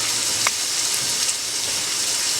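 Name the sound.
water tap filling sink with cold water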